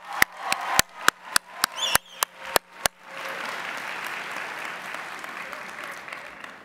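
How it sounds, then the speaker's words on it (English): Conference audience at an opening ceremony clapping: nine sharp, evenly spaced claps in unison, followed by a sustained wave of loose, loud applause from the crowd. "Can we get some claps?"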